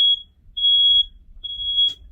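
A fire alarm emits three high, piercing electronic beeps in an even rhythm, each about half a second long, loud and clear against near silence.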